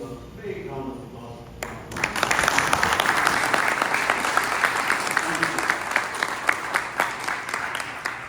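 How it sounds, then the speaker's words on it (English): Applause from an Indian diaspora audience at a consulate general meeting swells in after a short spoken opening and continues as sustained clapping from a large crowd, with a few sharper individual claps standing out. "I would like and urge the community here to give a big round of applause"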